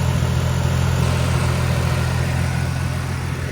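A turbocharged S52 engine in a BMW E30 touring runs at a steady idle, a continuous low droning rumble that stays even and fairly loud throughout with no revving.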